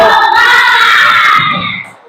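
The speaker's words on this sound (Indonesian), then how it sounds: "Coba tepuk semangat dulu." A classroom of Indonesian schoolchildren claps and chants a spirited cheer in unison, loud and close. The chant holds steady, then fades away at the end.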